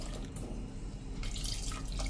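Water, about one and a half cups, pours and splashes into a pressure cooker holding dates, tamarind and jaggery for chutney, a short continuous liquid rush heard up close with no talking.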